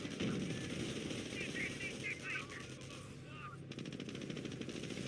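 Rapid machine-gun bursts and scattered rifle fire from a World War II real-time strategy battle in Company of Heroes, with a voice talking over the clatter.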